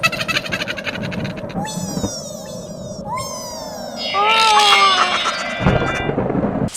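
Thunderstorm rumble under steady rain-like noise that swells louder midway, with a few gliding whistle-like tones over it and no talking.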